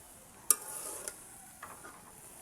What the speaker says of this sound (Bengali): লাল শাকটাকে আমি আবারও নেড়ে দিচ্ছি।